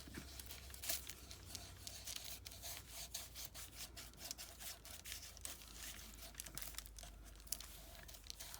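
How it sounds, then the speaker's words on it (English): Fingers rub Distress Microglaze finish onto a wooden journal tag, producing soft, close, continuous scratchy friction with small irregular crackles and no talking. "I'm just going to rub it on with my fingers"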